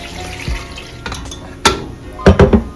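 Chicken bouillon mixture poured over potatoes in a pan, heard as soft liquid splashing and sizzling with several clinks of a pot and utensil, close by and moderately loud, no voices.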